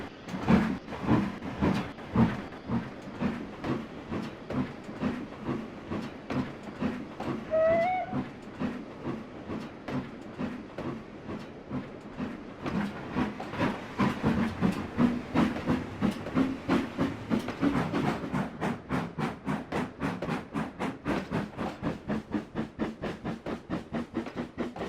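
A steam locomotive chuffs along the railway in an even rhythmic beat that quickens toward the end, with hissing steam and a brief whistle partway through.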